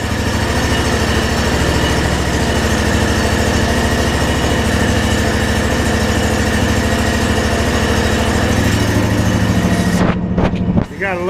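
A Kawasaki 23 HP engine on an Ariens IKON X 52-inch zero-turn mower runs at a steady, loud idle with an even drone, then cuts out abruptly near the end with a few brief knocks.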